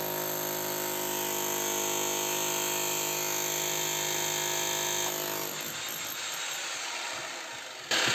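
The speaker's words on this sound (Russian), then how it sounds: "Перфоратор ставим в режим молотка, направляем его в центр, немножечко под углом," A rotary hammer set to hammer mode pounds into a small firewood log, a loud steady rattling drone for about five seconds, then the wood splits and the tool winds down with scattered knocks before a final jolt.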